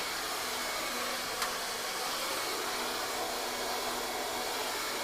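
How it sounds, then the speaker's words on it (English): A handheld blow dryer fitted with a nozzle dries hair at a salon, making a loud, steady rushing roar with a brief click partway through and no talking. "it makes the blow dryer feel like more like a gun"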